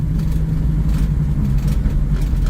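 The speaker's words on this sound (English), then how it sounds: "I hear that door shaking pretty good" Inside a moving 1968 Pontiac Firebird, a steady loud engine and road drone fills the cabin, with a low continuous rattle and shaking from a door blended into it.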